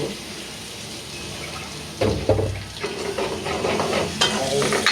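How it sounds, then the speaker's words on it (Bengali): Large giant freshwater prawns frying in hot oil, a continuous close sizzle and crackle that grows louder and busier partway through, with occasional spatters. "এই যে আমার চিংড়ি মাছ ভাজা কত সুন্দর করে লাল লাল করে ভাজতে হবে"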